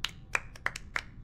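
A handful of sparse, separate hand claps from characters in the video game Class of 09: The Re-Up, faint and unhurried, about five or six crisp smacks with brief gaps between them.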